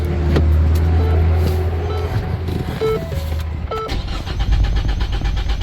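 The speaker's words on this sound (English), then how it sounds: "See, the vehicle crank and starts" A 2015 Ford Escape with a no-crank, no-start fault cranks and catches, the loud engine starting close by and settling into a running rumble with a few warning chimes.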